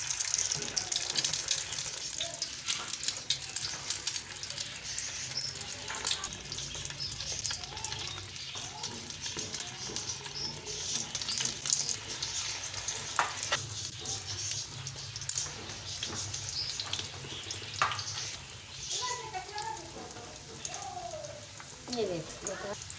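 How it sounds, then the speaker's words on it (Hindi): Chana dal and potato kababs dipped in beaten egg fry on a small griddle over low heat, a soft continuous sizzle and hiss that sounds almost watery, with faint scrapes and clicks throughout. "अब ये देखिए हम है ना तवे पर डालेंगे अंडे में मिक्स करके।"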